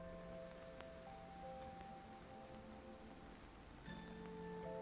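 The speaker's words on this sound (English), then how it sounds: "Oh no, it's raining." Rain falls in a video game open world as a faint, steady hiss under soft sustained musical tones.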